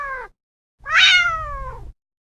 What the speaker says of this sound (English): create a video of these two cats meeting for the first time with audio